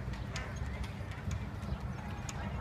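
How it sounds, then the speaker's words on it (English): Horses' hooves clip-clop steadily on pavement during the Dayton Air Show parade, amid a constant outdoor rumble, the clacks moderately loud and evenly paced. "I like the parts with the horses."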